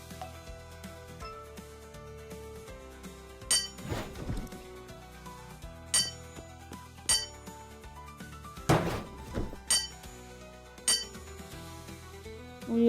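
Metallic clinks and hammer-like strikes from forging a weapon in the Roblox game The Forge, several sharp hits spaced irregularly over a background of game music, with no voices.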